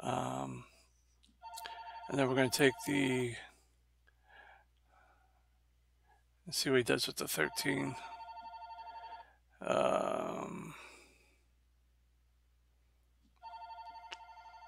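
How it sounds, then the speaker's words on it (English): A telephone rings in a home studio, several bursts of ring tones coming and going in a steady pattern, some of them under a man's speech during a board game session. "Don't mind that. That's the phone."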